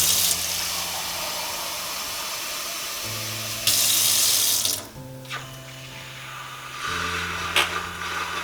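Tap water runs and splashes into a blender jug, a steady hiss with pitch rising as it fills, a short pause and shifts in flow, close and alone.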